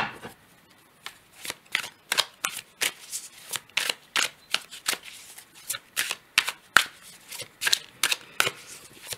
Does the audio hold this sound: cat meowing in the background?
no